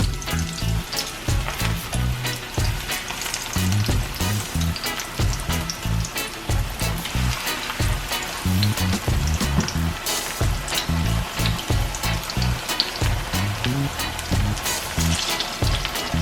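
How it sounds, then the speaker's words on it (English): Continuous crackling sizzle of breadfruit frying in hot oil, dense and close, with occasional pops and scraping stirs, no talking. "Okay, so now I think my oil should be hot enough. Yep, give that sizzle."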